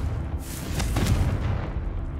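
A Confringo fire spell bursts with a loud, booming explosion in Hogwarts Legacy, one heavy blast with rumbling low end that lingers briefly.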